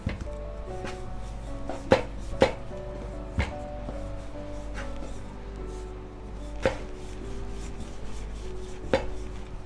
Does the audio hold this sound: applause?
no